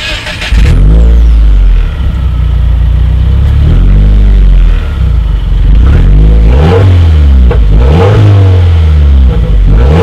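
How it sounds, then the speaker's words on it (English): A loud, deep stainless steel quad-outlet exhaust on a 2018 Subaru WRX roars close by as the engine revs repeatedly, rising and falling in throaty pulses with a continuous rumble underneath. "a stainless steel exhaust setup with quad outlets. So as always, you guys, here is that exhaust clip."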